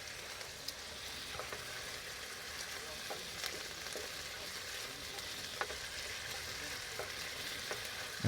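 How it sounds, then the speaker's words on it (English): Chicken satay pieces sizzle and fry in a pan over a camp stove, a steady crackling hiss with small pops throughout. "You want to hear that sizzle."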